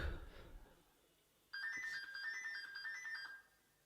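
A mobile phone ringtone starts abruptly and plays a short repeating electronic melody for about two seconds, fairly clear against a quiet indoor background.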